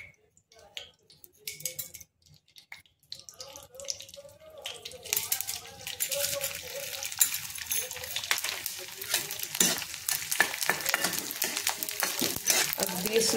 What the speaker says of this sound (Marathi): हा 50 ग्रॅम डिंक आहे, तर आपण आता रोस्ट करून घ्यायचे